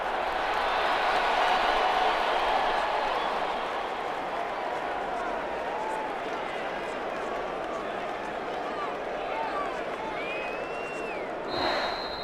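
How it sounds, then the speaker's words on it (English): A home crowd of New Orleans fans applauds and roars in an NFL video game simulation, a steady, dense wash of cheering and clapping that swells early and then holds at a constant level throughout. "And the home crowd applauding."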